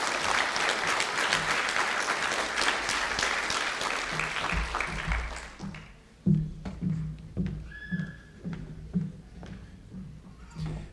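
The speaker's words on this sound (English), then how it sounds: "giving a big round of applause to our loving, caring, and extremely proud parents sitting in the crowd right now" Graduation audience at a 2022 school ceremony bursts into sustained, dense applause for the parents, loud and crowded for about six seconds before thinning into scattered claps with a few thumps.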